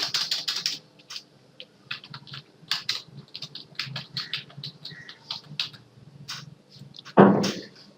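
Typing on a computer keyboard to change intro text, a close run of light irregular key clicks with brief pauses, ending in a louder thump.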